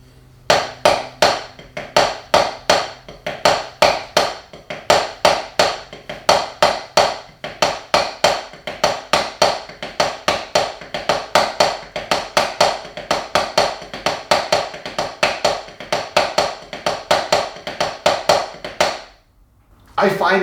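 Matsuri taiko drum pattern with the downbeat shifted to the third note, struck in a fast, steady repeating rhythm of sharp, loud, close hits that runs continuously before stopping.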